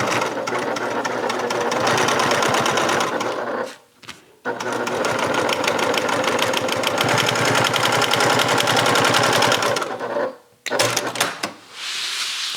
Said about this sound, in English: just stitch on your side piece to hold that seam allowance underneath